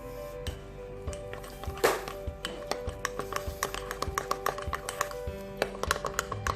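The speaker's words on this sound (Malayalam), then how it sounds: "ഇനി ഇത് പതുക്കെ ഒന്ന് മിക്സ് ചെയ്ത് കൊടുക്കാം." Batter for a quick mug cake being stirred by hand in a mug, giving a steady run of light, close spoon taps and scraping clinks against the mug wall, with no talking.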